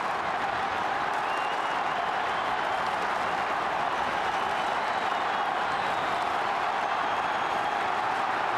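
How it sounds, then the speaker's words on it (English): Stadium crowd at a 2004 Australian football preliminary final, Port Adelaide versus St Kilda, roaring and applauding after a goal, a loud continuous wash of cheering and clapping with no clear voices. "A thunderous roar around Amy Stadium."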